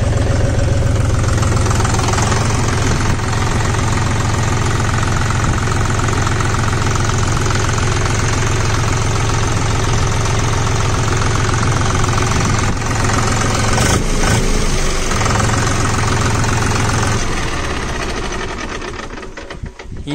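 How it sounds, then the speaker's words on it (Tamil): A John Deere 5050D Gear Pro 4WD tractor engine idles at 750 RPM, a steady close, loud diesel chug with a regular knocking pulse that holds evenly before easing slightly near the end. "இன்ஜின் ஐடியல் ஆர்பிஎம் பார்த்தீங்கன்னா 750 RPMல் ரன் ஆகுதுங்க."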